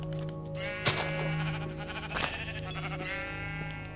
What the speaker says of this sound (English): Oh, there's so many sheep here.